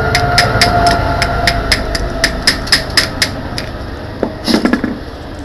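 A homemade welder at work: a run of sharp, evenly spaced metallic clicks and taps up close, then a brief louder clatter near the end, with no voices.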